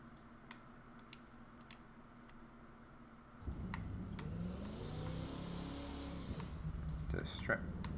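A Pontiac GTO The Judge in The Crew 2 racing game revs up and spins its wheels, a rising engine roar kicking in midway over steady ticking clicks, with someone talking over it.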